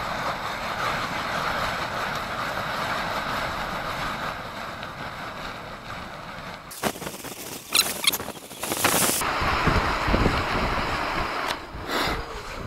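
Strong gust of wind buffeting an outdoor microphone during single-line kite testing of a mini ground station on high torsion, a loud broadband rumbling burst midway through steady wind noise, with no talk.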